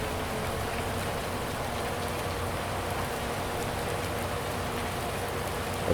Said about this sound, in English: Oh, listen to it rain.